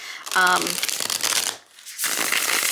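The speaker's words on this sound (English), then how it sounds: "I am going to shuffle it" Tarot cards being shuffled up close in two quick riffling bursts separated by a short pause, with a brief voice at the start.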